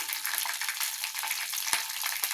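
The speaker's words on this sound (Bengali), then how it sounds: "একটু দারচিনি আর এলাচ ফোড়ন দিলাম দারচিনি আর এলাচ ফোড়ন ফোড়ন দিলাম" Whole cinnamon and cardamom frying in a mix of butter and oil for an Afghani chicken curry, giving a steady, close, bright sizzle with occasional small pops and no voices.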